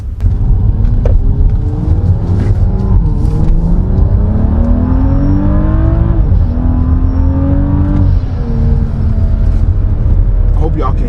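A BMW 435 with an N55 engine and a high-flow catted downpipe accelerates hard through the gears, pitch climbing and dropping with each shift, exhaust burbling, loud and rumbling from inside the cabin, with a voice talking over it.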